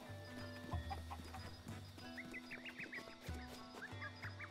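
Chickens cluck repeatedly in Kakariko Village in the video game Zelda: Breath of the Wild, a cluster of short calls over steady game background music and ambience, with no talk.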